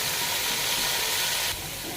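Garlic frying in hot oil in a pan, a steady close broadband sizzle and hiss that continues without pause, dropping slightly in loudness near the end.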